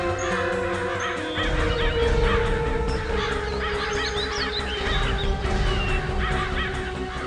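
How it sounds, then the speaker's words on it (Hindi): Many crows circling and cawing outdoors near a patch of water, overlapping harsh caws repeating throughout at moderate distance over a steady low rumble, with no talking. "बहुत सारे कौवे भी मंडरा रहे हैं"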